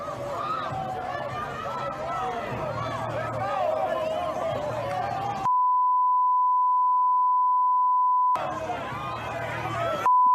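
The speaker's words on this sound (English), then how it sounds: "I couldn't hear anything there because it was just a loud beep." A loud, steady censor bleep tone blots out the audio for about three seconds. Noisy crowd chatter and talk come before and after it, and the bleep returns briefly at the very end.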